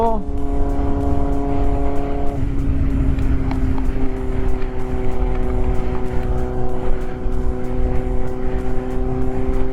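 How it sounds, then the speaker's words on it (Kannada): A Kawasaki Z800 sports motorcycle engine drones loudly and continuously at speed on a highway, its pitch dropping once early on as if shifting gear, with rushing wind underneath. "ನಾನು ಫಸ್ಟ್ ಒಂದು ಹೈವೇಲಿ ಒಂದು ಸ್ಪೋರ್ಟ್ಸ್ ಬೈಕ್ ಓಡಿಸ್ತಿದ್ದೀನಿ"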